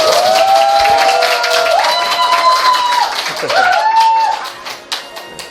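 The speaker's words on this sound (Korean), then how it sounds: "큰 박수로 시작하겠습니다." Members at the second day of a political party workshop clap and cheer to open the session, mixed with bright whistle-like tones, fading toward the end.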